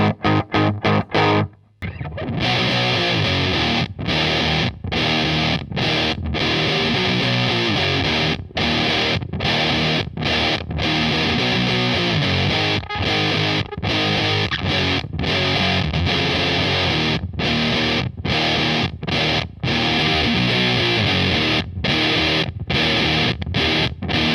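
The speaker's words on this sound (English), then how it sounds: "You can hear there it's slightly overdriven when I dig in." Electric guitar pushed into a Triangle Big Muff fuzz pedal, a long loud stretch of thick, saturated riffing with brief rhythmic gaps between chords, close and dense throughout.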